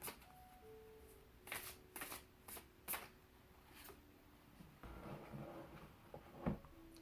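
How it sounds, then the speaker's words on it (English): A large deck of cards being shuffled by hand in a quiet room, with several soft riffling bursts and short rustles spread across the clip, faint and close. "This one doesn't really shuffle that well."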